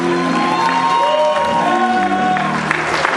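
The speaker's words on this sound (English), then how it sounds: "I want to give Dr. Mitchell a hand clap of praise." A church congregation applauding in praise of a preacher, a dense, sustained wash of clapping mixed with crowd noise and voices, steady and loud throughout.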